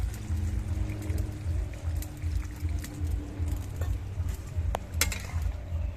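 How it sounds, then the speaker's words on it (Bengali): A bowl of water poured into a simmering cashew-paste curry masala for yogurt prawns, a steady close wash of liquid noise with small clinks and splashes throughout, no voices. "এবার এর মধ্যে আমি মশলাপাতি সব বাটি ধোয়া এক বাটি জল দিয়ে দিচ্ছি"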